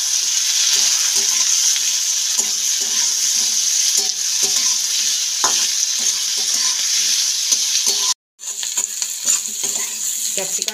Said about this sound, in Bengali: এটা কিন্তু খুব বেশি নরম করে ভাজবো না, হালকা একটু সতে করে নিলেই হবে।